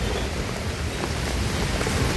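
Heavy rain falls outside during a truck trip to Nashik, a dense, steady wash of noise with no talk.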